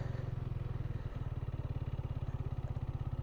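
A motorcycle ridden without the clutch, shifting through first and second gear while braking, chugs steadily in a close, loud, rapid engine pulse that runs on without a break.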